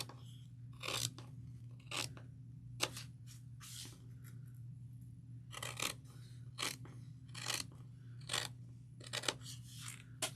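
Fabric scissors trim cloth close to zipper tape while sewing a tote bag, giving a series of crisp, close snips in irregular bursts over a steady low hum.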